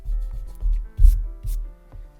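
Short scrubbing strokes of an eraser rubbing across paper, four or five bursts in an uneven rhythm, close and fairly quiet.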